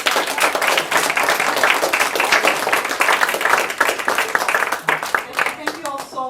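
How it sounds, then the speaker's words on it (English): A conference audience claps at the close of a leadership and sustainability panel. The dense, loud applause runs throughout and thins out near the end. "Let's give a big round of applause."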